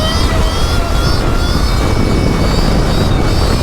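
An 80-horsepower engine runs at full power, a loud, steady, roaring drone with a buzzing edge that holds constant without a break from start to finish.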